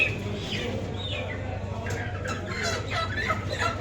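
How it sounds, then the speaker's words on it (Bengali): Several local desi chickens cluck and squawk nearby at a chicken shop in short, overlapping calls, with steady background noise underneath. "এটা হচ্ছে আমাদের দেশি মুরগি"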